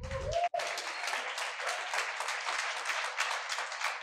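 Seminar audience at a motivational talk breaking into applause, a brief pause before thick, even clapping from many hands that carries on steadily at moderate volume.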